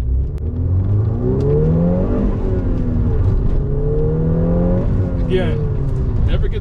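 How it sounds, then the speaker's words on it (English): A 2013 VW Golf R with a four-cylinder engine accelerates from inside the cabin, its engine note climbing through gears in rising sweeps with brief dips at shifts, steady and close, with someone talking over it. "you do get a little bit of grunt or whatever from this four-cylinder engine"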